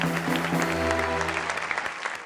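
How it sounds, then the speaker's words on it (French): Audience applause for a contestant on a French-language entertainment show, brief clapping mixed with a sustained musical tone underneath. "On applaudit pour Andrea, s'il vous plaît."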